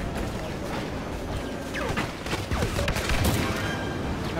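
An AT-AT walker exploding in Star Wars Battlefront during a Walker Assault on Outpost Beta, a rumbling cluster of blasts and crackling debris building over dense gunfire and battle noise.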